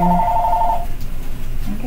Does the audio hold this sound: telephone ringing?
yes